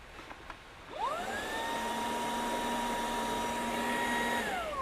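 A Ryobi 18V cordless mid-size spot cleaner starts up with a whining motor and draws dirty fluid through the slits of its suction tip, a steady close hum and rush that ramps down at the end.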